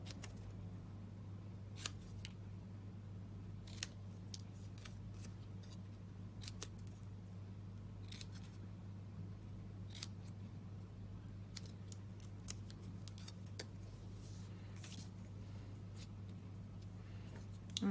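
Scissors cutting both ends of a paper piece, sparse quiet snips spaced a second or two apart over a low steady hum.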